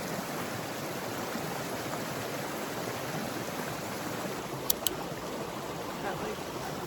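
River water flows in a steady, broadband rush at a wilderness campsite, fairly faint and continuous, with a couple of brief clicks near the end.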